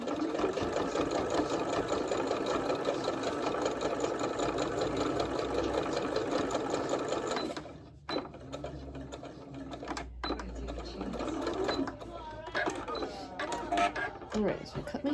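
A sewing machine hums through a continuous stretch of stitching on a children's Minions-themed yellow hand towel, then stops for its back stitch, leaving quieter handling sounds and some talking.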